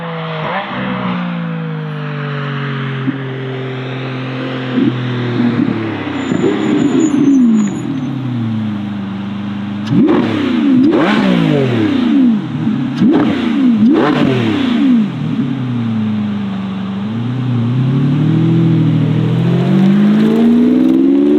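A Lamborghini Revuelto tuned by NOVITEC, its naturally aspirated V12 hybrid engine with three electric motors and over 1,000 horsepower, revs loudly and close in repeated rising and falling blips before settling into a steady idle.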